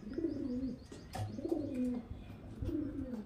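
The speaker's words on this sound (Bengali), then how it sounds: "দুর্দান্ত কোয়ালিটির পায়রা ফ্রেন্ডস, দেখতে পাচ্ছেন।" Fancy domestic pigeons coo close by in three repeated throaty phrases, each a soft rolling burble that swells and falls away.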